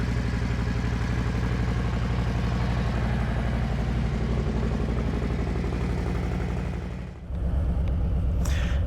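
A Harley-Davidson Low Rider ST motorcycle idles steadily after starting following 125 days of storage, a close, loud, even low rumble with a brief dip near the end.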